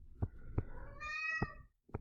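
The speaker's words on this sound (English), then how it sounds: "And now you hear a kitty in the background." Cat meowing in the background, one drawn-out, rising and falling meow of about a second that sounds fairly faint and distant, with a few soft thumps around it.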